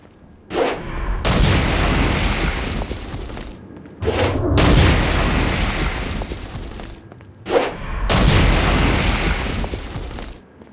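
Three loud, broad explosions from the Saints Row: Gat Out of Hell video game, each a sharp onset followed by a long rumbling roar lasting about three seconds, with brief quiet gaps between them.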